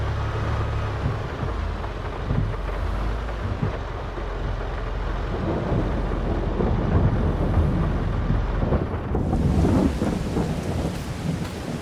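Rain pours steadily with rolling thunder in Farming Simulator 22, a loud, continuous storm wash with deep rumbles building and a brighter burst near the end, no talking.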